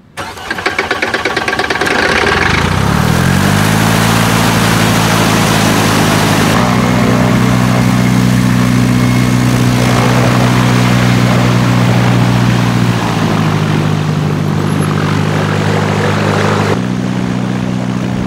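A Cessna's piston engine catches with a rising whir, then runs steadily and loudly up close with the propeller spinning, shifting pitch slightly partway through as the run continues alone without talk.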